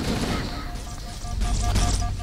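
Enemy gunfire strikes the player in Halo CE Anniversary as a rapid burst of shots and booming impacts, loud and dense across the moment, with game sounds layered over it.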